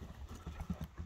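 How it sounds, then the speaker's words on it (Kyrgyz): A horse's hooves clip-clop in quick, uneven beats at moderate distance, fairly faint against low background noise, with a little speech nearby. "Ат экен ама ат экен"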